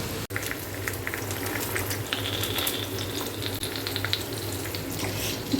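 Chowmein noodles frying and being stirred in a wok, a steady close sizzle with scraping stir sounds running throughout, no voices.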